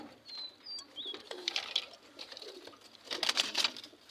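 Caged pigeons coo softly at close range in a quiet coop, with short soft calls and rustling scattered across the moment, no talking.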